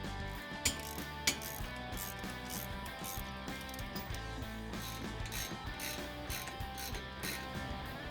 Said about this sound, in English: I'm going to grab my 15mm ratchet and go around the back side and pull these 4